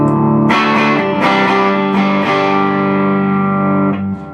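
An electric guitar with a humbucker pickup plays through a Vox VT80 amp emulating a 2x12 combo, loud distorted chords struck repeatedly and ringing out with sustain before cutting off near the end.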